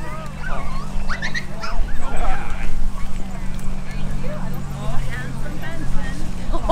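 A trick-performing dog at an Airstream International Rally pet show gives short barks and high whimpers and yips in bursts, under near-constant talk, with an outdoor crowd murmur behind.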